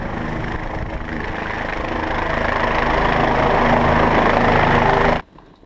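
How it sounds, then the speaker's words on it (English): A helicopter returning from an accident, its engine and rotor making a steady loud droning whine that builds slightly over several seconds before cutting off abruptly near the end. "This is a helicopter."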